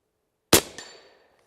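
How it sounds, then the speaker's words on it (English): A single sharp gunshot from a 300 Blackout rifle cracks out loud and close, followed by a short metallic clack and a brief fading ring. "we'll just shoot one at a time, see what happens"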